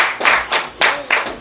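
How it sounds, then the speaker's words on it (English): Loud, close hand clapping at a live writing session, several sharp bursts in uneven rhythm with short gaps between them. "give a round of applause"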